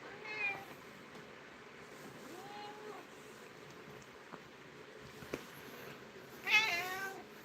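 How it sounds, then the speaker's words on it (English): A house cat meows indoors, a few short soft calls spread out, with a louder meow near the end over quiet room noise. "There's a cat."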